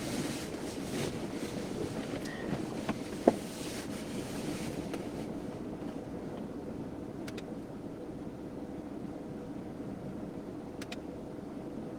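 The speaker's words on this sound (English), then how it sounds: "Oh man, wind." Strong wind gusting during a tornado chase near Kit Carson, Colorado, a steady moderate rush of wind noise on the microphone with a few faint clicks and no talk.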